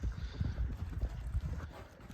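A horse walks without a whip, its hooves clip-clopping in a steady rhythm of close, fairly loud thuds with low background noise.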